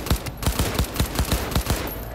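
Rapid bursts of gunfire ring out in the video game Cyberpunk 2077, about a dozen loud, evenly spaced shots in quick succession with no talk over them.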